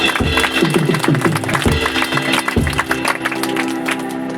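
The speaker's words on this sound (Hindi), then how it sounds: "जोरदार तालियां" Loud applause from a congregation at a Christian religious gathering, dense clapping mixed with crowd noise and a voice or music underneath, fairly close and sustained.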